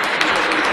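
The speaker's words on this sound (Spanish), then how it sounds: "Muy bien, pues a lo cual aplaudimos." Audience applause at a university event breaks out in a short burst of dense clapping from many hands, loud and close, lasting under a second.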